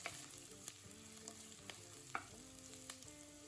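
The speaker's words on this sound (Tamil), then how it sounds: "இது எல்லாத்தையும் நல்லா வதக்கிக்கலாம்." Steady sizzling and crackling of garlic and green chili frying in a hot pan, with occasional clinks of a spoon stirring.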